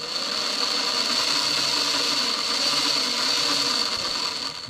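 An Aurora AFX G Plus slot car motor revs with a steady, high-pitched whine that holds level for several seconds, close and alone with no talk.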